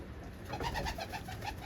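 Young pigeons in a coop coo softly and steadily up close, a short run of pulsing, throaty calls with no talking.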